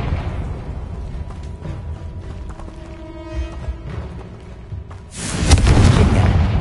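A Confringo blasting spell is cast in the Hogwarts Legacy video game. After a stretch of low ambient rumble, it erupts as one loud, sudden explosive boom near the end, with the blast roaring on for more than a second.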